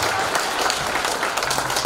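An audience at a singer's New Year fan club gathering in a wedding hall claps for the singer, a short dense wash of applause from many hands, steady and fairly loud throughout.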